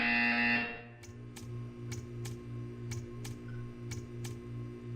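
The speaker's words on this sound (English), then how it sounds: "You will hear a buzzer" A series of eight short, evenly spaced buzzer pulses from a test chamber in the video game Portal 2 sound over a steady low electronic hum, following a brief burst of brighter noise at the start.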